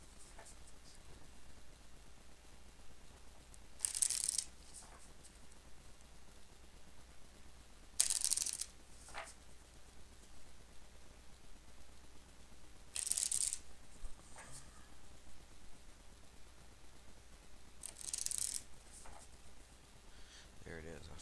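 A homemade, self-printed Lenormand card deck being shuffled in four short bursts of riffling at regular intervals, close and fairly quiet, with near silence between the bursts.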